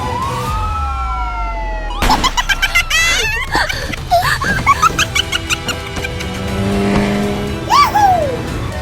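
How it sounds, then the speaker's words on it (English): Red cartoon sports coupe race car, number 95, speeds along Route 66 in an animated chase, engine whooshes and tire squeals mixing with siren-like sweeps and bursts of effects under busy cartoon action. "Suspect vehicle, red sports coupe number 985, Lightning McQueen, evading capture on Route 66"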